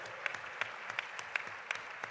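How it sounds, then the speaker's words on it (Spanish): A studio audience on a television talk programme gives faint, steady applause with soft, regular clap peaks throughout, somewhat distant and without voices on top. "Un aplauso, por favor."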